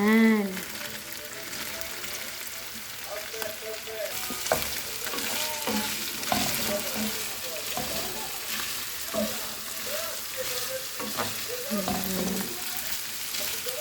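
Vegetables and ground meat with a splash of white wine sizzle in a pan and are stirred with repeated scraping and clinking strokes. Brief quiet voices occasionally cut in.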